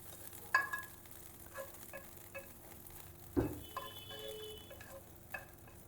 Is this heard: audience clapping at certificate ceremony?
no